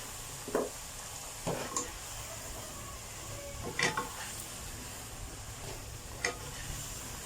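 Stir-frying young coconut shoots in a pan: soft scraping stirs and clinks of a utensil against metal every second or so, over a low steady sizzle.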